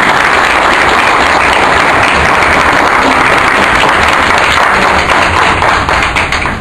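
Audience at a political event for the Secretaría Provincial de Huaral applauding steadily, a dense, loud wash of clapping sustained throughout and easing slightly toward the end.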